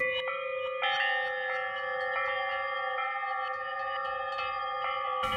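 A wind chime patch on an Omnisphere synthesizer rings out in layered, shimmering metallic tones that sustain and overlap, with fresh strikes entering every second or so. The chime plays alone and fairly loud.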